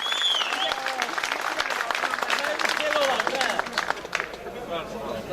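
Applause from a wedding crowd for a singer, dense steady clapping with cheering voices and whistles mixed in, continuous and close throughout.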